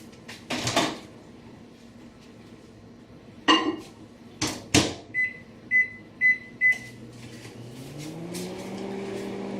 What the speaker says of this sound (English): I'm gonna nuke it in the microwave for 2 minutes.